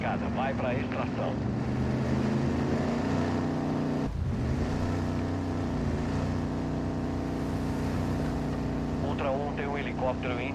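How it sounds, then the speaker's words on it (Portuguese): An armored boat in Call of Duty Warzone 2.0 drones steadily with a loud motor hum, continuous throughout, while voices talk over it. "o barco blindado está chegando agora"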